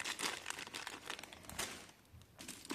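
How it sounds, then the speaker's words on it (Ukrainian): Sticky adhesive foil crinkles and crackles as it is handled during a battery case repair, a steady stream of close, bright rustling with no voices. "от така клеючася фольга"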